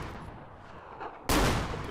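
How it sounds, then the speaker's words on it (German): A sudden loud burst of gunfire in the video game DayZ Overpoch cuts in after quiet ambience, then rings out and slowly decays, close to the listener. "Ich schieße, einer tot."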